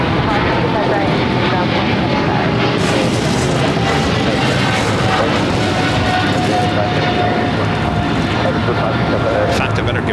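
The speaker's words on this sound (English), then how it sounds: "We do have a 777 taking off here on the south side" A Cathay Pacific Boeing 777 takes off on the south side at LAX, its jet engines producing a loud, continuous broadband roar that fills the scene, with voices faintly underneath.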